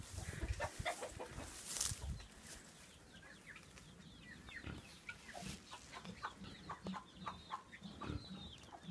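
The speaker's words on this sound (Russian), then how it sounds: "Вот еще курочки, цыплята," Chickens, chicks and guinea fowl on a farm in Italy cluck and chatter nearby in a busy, overlapping flock, with scattered sharper calls.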